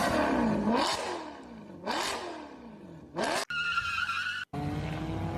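A Corvette C6R and a Camaro launch off the line in a racing game, with engines revving up in three rising pitch sweeps through gear changes, tires screeching, loud and close.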